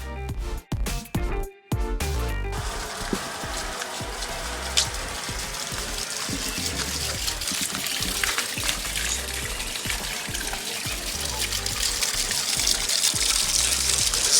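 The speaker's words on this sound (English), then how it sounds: "we elevated this so we could get a nice little subtle waterfall" A small, subtle garden waterfall spilling over an elevated basalt column in a compact backyard, a steady close rush and splash of falling water, briefly interrupted by a few bumps and dropouts at the start.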